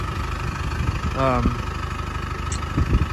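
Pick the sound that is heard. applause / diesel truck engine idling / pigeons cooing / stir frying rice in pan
diesel truck engine idling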